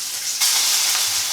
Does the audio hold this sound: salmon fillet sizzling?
yes